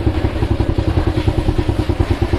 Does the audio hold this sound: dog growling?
no